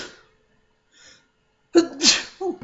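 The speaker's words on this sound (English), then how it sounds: "Excuse me, I'm about to sneeze." A person gives a short intake of breath, a pause, then a loud, sharp sneeze up close, followed by a brief vocal trailing sound.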